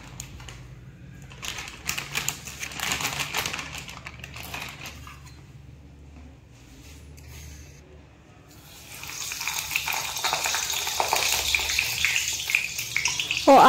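Clothes are washed by hand in water, with sloshing, splashing and rubbing that come in uneven bursts and grow louder and busier toward the end.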